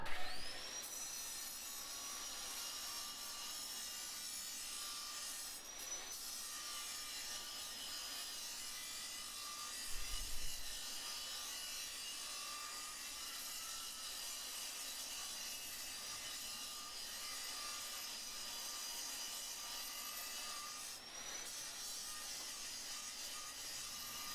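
A chef's knife blade is ground on a coarse wheel with a steady, high abrasive hiss and rasp that runs unbroken for over twenty seconds at a low, even level. A few faint knocks sit under it and a brief thump comes midway.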